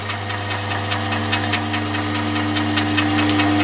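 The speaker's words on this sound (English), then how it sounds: "now I have the motor running" A Myford lathe's electric motor runs steadily in a workshop, a loud, even mechanical hum with a faint rhythmic knock, set up for reverse-spindle screw-cutting.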